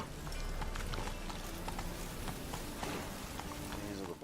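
Horse hooves clip-clopping in The Witcher III: Wild Hunt, a rapid repeating trot with game sound beneath, at moderate level throughout.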